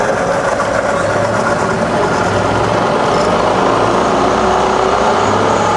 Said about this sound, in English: Firing up on the head, and you can hear that's running about 1500 RPM, it's lovely and smooth